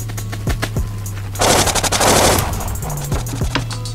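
Bursts of rapid automatic gunfire from a powerful gun in the blocky online shooter Blockpost Legacy, a few single shots then a loud sustained volley, with a low game hum underneath.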